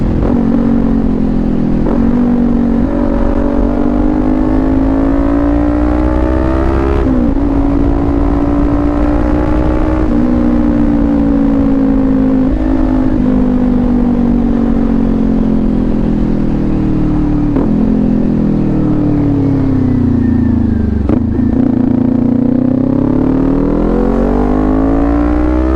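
Kawasaki Ninja 400 motorcycle engine droning loudly and steadily while riding on the road, its pitch rising and falling with throttle changes and gear shifts, with rushing wind throughout.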